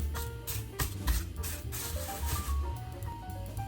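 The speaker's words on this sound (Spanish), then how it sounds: "Vamos a aceitar un poco el plástico la bolsa plástica que he puesto aquí para hacer las hamburguesas" A plastic bag is oiled by hand to shape lentil burgers, producing continuous crinkling and rubbing with soft rhythmic swishes, close and moderately loud.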